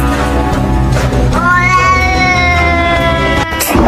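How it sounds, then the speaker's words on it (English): A stray cat outside lets out a loud, long, wavering meow that rises and stretches into a drawn-out caterwaul, close and dominant. "there's a weird fucking stray cat outside"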